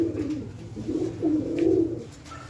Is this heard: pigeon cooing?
yes